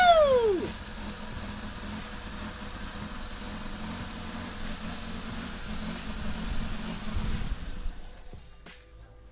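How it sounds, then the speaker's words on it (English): A Toyota EF-series engine in a project car idles roughly just after its first start, a steady close-up rumble with uneven vibration that runs throughout, with brief cheering at the start. "The engine runs not perfectly, but it does!"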